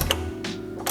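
Ratchet or wrench clicks and mechanical rattles as a bolt is snugged down on a car coilover, a few close, brief metallic bursts with no talking.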